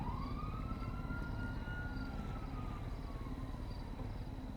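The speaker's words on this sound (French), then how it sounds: "Et y a des sirènes" A police-style siren wails in the Yakuza video game, its long rising and falling tone sweeping steadily over a constant low rumble of traffic noise, with no one speaking.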